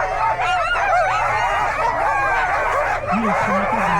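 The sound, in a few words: sled dogs barking at race start line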